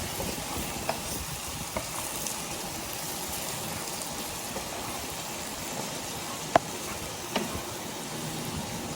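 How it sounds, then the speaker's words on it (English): Mushroom pilaf being stirred in a pan, a steady soft sizzle and scraping hiss running throughout at close range, with a few sharper clicks of the utensil against the pan and no talking. "I'm going to stir it up, get it all mixed in."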